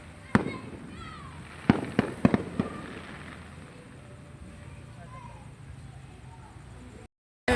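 Fireworks go off outdoors after a senior ball, with several sharp bangs and crackles spread over a few seconds above a steady outdoor hum, then fading to quieter background noise.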